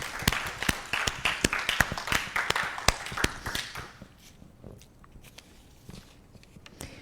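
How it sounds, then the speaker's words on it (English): A crowd applauds with brisk, dense clapping that thins out and fades to a few scattered claps near the end. "So let's give Michele another round of applause, sharing from her heart"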